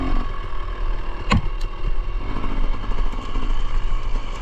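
A dirt bike engine revving and droning close by while riding a hard enduro trail in the Pacific Northwest, steady throttle with fluctuating pitch and a sharp knock partway through.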